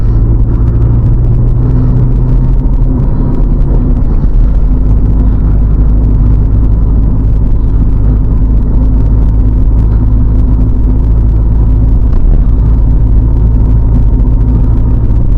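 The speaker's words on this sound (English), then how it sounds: "Car does have some road noise" Loud, steady low rumble of tires on pavement from inside a moving 1998 Honda Civic DX 5-speed, continuous and droning throughout.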